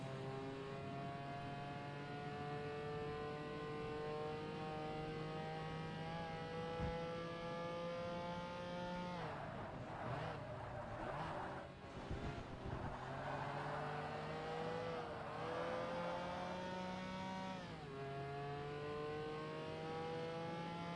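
Race car engines in the Forza Motorsport video game drone steadily and loud throughout, with rising revs and a gear shift, a burst of rougher engine noise midway, then climbing pitch again; no talk.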